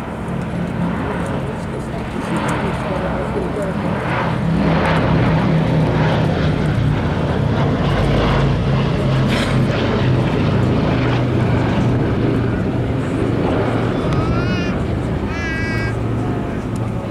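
A steady, loud drone of B-17 Flying Fortress piston engines and propellers fills an air museum setting, broad and continuous throughout, while someone talks over it.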